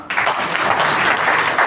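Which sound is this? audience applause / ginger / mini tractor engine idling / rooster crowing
audience applause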